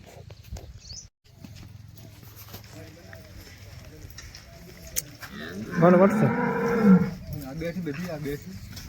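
Cattle at a village cow market, with a loud low moo-like bellow standing out around the middle amid outdoor background noise and people talking nearby.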